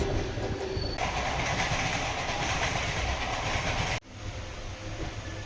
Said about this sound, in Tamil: AC local suburban train CSMT to தானே.